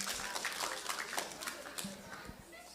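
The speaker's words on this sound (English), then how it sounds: "Can we give a round of applause to our two brothers?" An audience at a morning community gathering applauds two brothers: a soft, diffuse patter of many hands, distant and steady for a few seconds, with a few voices mixed in.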